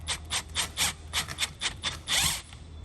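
Self-tapping screws driven with a low-torque driver while fitting a molded carbon-fiber front lip spoiler to a Tesla Model Y, giving a run of close, rhythmic scraping and grinding bursts that end in one longer grab.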